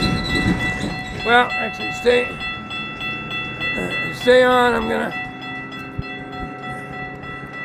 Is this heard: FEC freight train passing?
yes